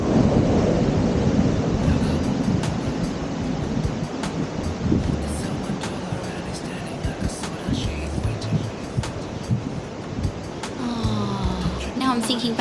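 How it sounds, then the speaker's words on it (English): Ocean waves crash against rocks at a natural bridge on Rottnest Island, Western Australia, a loud continuous roar and wash of surf with wind noise buffeting the microphone and music playing faintly underneath. "it's quite nice just to stand here and watch the waves crash and listen to the sound"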